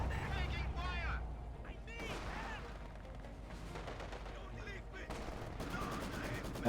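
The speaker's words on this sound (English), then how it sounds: "KV-2 is opening fire with an artillery strike." KV-2 heavy tank firing an artillery strike in a war video game: a series of sharp blasts and rumbling impacts at moderate level, with voices and game chatter running throughout.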